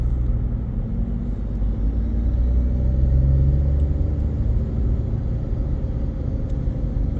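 Steady low road rumble from inside a car in heavy morning traffic on I-285 near Atlanta, with constant engine and tire drone and a slight swell midway, no talking.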